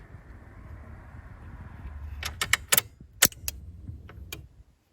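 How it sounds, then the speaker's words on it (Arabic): In a Nissan Primera, a newly fitted part burns out when the ignition is switched on. Several sharp, bright clicks and snaps land over a low idle-like hum near the end, closely spaced and fairly loud. "سمعت تكة انا، شكله هذا احترق."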